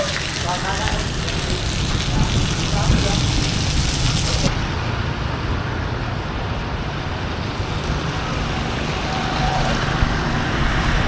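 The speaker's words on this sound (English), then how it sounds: "It's raining under the bridge." Heavy rain pours and drips beneath a leaking bridge in Hue, a dense, loud, close wash of splashing water that thins somewhat midway but keeps falling steadily throughout.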